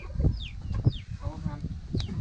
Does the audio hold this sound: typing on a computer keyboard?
no